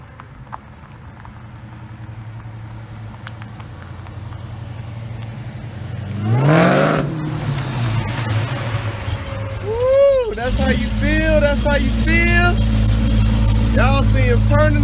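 A supercharged LSA-engined Chevy box car revs hard and spins its tires, the engine roar rising loud and close with squealing tire screech, while people talk excitedly over it.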